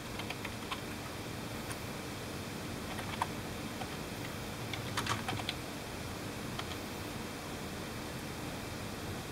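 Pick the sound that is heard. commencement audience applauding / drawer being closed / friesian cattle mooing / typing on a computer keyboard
typing on a computer keyboard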